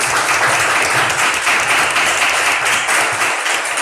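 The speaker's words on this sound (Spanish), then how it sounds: "Le damos un aplauso a Gustavo." Steady, dense applause from an audience at the close of an academic lecture, loud and continuous throughout, with no voices over it.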